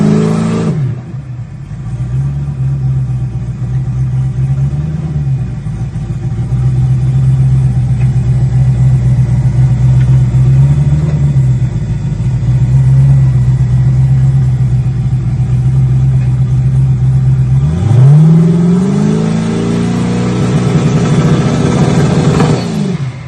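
A turbocharged LS-powered Mustang at a drag strip holds a loud, steady engine drone with wavering revs, then climbs sharply in pitch as it accelerates hard near the end, close and with no talking.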